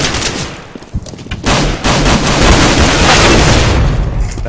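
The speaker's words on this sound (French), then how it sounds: "Ça fait 3 secondes qu'il tire." Loud, rapid gunfire from a firefight in the video game CS:GO crackles in dense bursts that swell into nearly continuous shooting for several seconds, with no talking.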